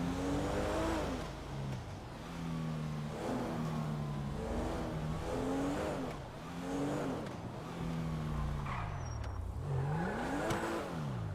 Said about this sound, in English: This Porsche ain't too bad